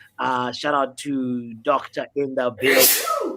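A person talks, then a sharp, loud sneeze bursts out at the end, close to the microphone.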